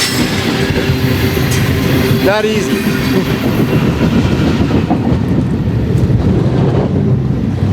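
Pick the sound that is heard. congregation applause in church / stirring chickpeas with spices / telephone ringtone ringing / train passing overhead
train passing overhead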